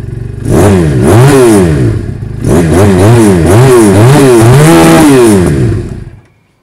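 A motorcycle engine fires up and revs loudly in repeated throttle blips, a throaty exhaust rising and falling before cutting off near the end.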